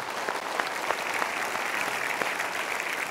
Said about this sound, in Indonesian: Super, kita berikan tepuk tangan dulu.